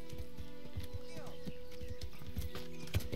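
Horse hooves clip-clopping in the medieval video game Kingdom Come: Deliverance, a steady run of soft thuds under constant background music and someone talking over it.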